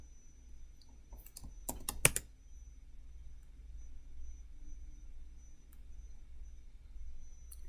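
A sudo apt install command typed on a laptop keyboard: a quick cluster of sharp, close key clicks near the start, then faint background hum and quiet.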